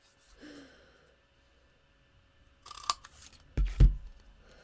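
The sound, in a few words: trimming paper with scissors while card making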